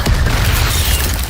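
Fiery spell blast in a Harry Potter game set at Hogwarts, a loud whooshing burst with a dense booming low rumble that fills the whole moment.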